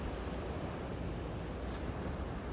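Raging winter ocean surf at Avery Point in Groton, Connecticut, driven by high winds, a steady loud roar of crashing waves and wind buffeting the microphone, continuous and alone with no voices.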